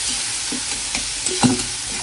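Salted tomatoes frying in a pan while being stirred, a soft continuous sizzle broken by scraping stir strokes and a few small pops, close and fairly quiet with no talking.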